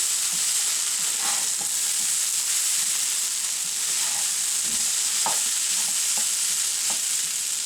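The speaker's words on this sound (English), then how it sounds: "you let it cook most of the time with the lid on, taking the lid off every once in a while to stir it" Ground hamburger and potatoes fry in a pan, a steady loud sizzle and hiss running throughout with occasional scraping stirs of a utensil, close up with no voices.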